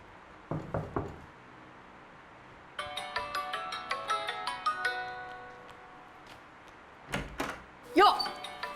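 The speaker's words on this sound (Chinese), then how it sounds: "算了，还是给老周打电话吧。" A telephone rings with a bright, repeating electronic tone for several seconds in a quiet room, preceded by a few knock-like thuds and followed by more knocking; a short voice comes in near the end.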